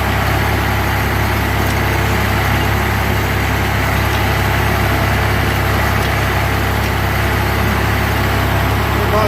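Tractor engine holding steady at roughly 1700 RPM while drilling beans in a field, a loud, continuous low droning hum with a constant tone and no talking throughout.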